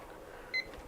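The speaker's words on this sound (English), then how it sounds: "I set that timer too soon" One short, faint electronic beep from a timer sounds once over a quiet room hum during late-night DTF shirt printing work.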